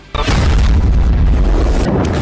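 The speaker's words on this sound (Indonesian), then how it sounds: "Sebuah ledakan yang sangat kuat pun terjadi" A powerful explosion erupts in an enclosed arena, a sudden loud boom that swells into a sustained roaring blast for about two seconds.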